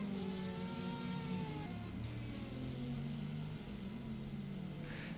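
LMP2 race cars at the 6 Hours of Bahrain in a racing video game, engines droning and rising in pitch as several cars circulate on track, a continuous layered whine at moderate volume.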